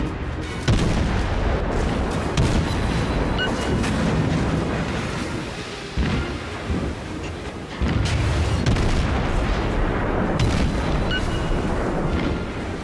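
Warship guns in the World of Warships video game boom in dense, loud, repeated volleys over continuous battle noise, with several sharper blasts standing out.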